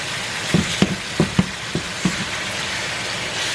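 Ground beef for shepherd's pie cooks in a pan with a steady sizzle, punctuated by several distinct scraping or stirring knocks in the first half before settling into continuous frying.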